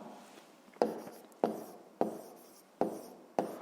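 A handful of pen strokes writing an answer by hand for a fifth-grade maths exercise, five sharp scratchy marks at steady intervals, close and fairly quiet, with no talking.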